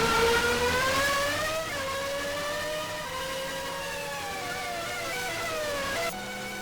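A Team LSR Toyota race car in a racing video game finishes at Reims, its engine a steady, buzzing whine that shifts and rises in pitch as it runs on, then cuts off abruptly near the end.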